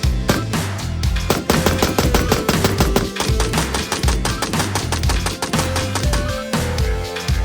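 An M1A rifle chambered in .308 with a 16-inch barrel and muzzle brake fires a rapid string of loud, sharp reports, close and closely spaced with only brief gaps between shots.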